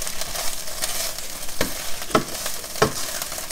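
An egg cooking in a pan on a stove, with a steady faint sizzle and a few sharp scrapes or stirs of a utensil against the pan.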